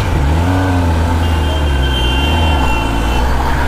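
A Kawasaki ZX-10R motorcycle engine drones loud and close in a steady, sustained growl, with shifting pitch as it revs while riding.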